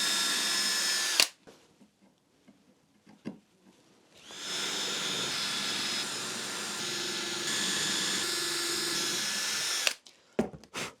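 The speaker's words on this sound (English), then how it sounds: "I can drill through it to make the holes that the brass rods will sit into" A power drill bores holes through a drilling guide for brass rods in a fancy zine display, two long steady whining runs of drilling separated by quiet pauses and small handling knocks, loud and close with no talk.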